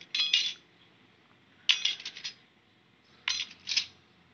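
Used metal spoons of mixed sizes clatter in three short jingling bursts, a bright metallic rattle with quiet pauses between handlings.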